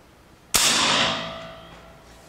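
A single sharp crack from a PCP air rifle being fired, with a sudden loud onset and a ringing, slowly fading decay lasting nearly two seconds, heard alone without talk.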